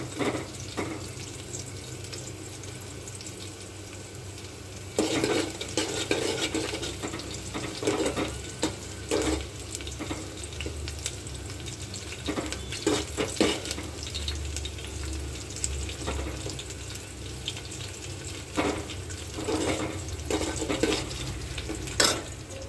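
A curry being stirred in a pan with frying onions, giving a continuous sizzle with bursts of scraping and clattering from the spoon, close and steady, with no voices.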